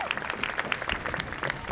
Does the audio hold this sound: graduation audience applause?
yes